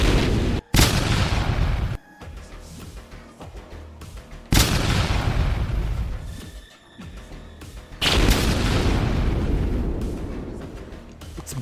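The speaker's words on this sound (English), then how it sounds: "I'll just throw grenades at it." Grenade and crack-grenade blasts in the Warhammer 40K Deathwatch video game erupt as loud, dense booms in three long bursts, each with a sharp onset followed by rumbling debris, with no talking.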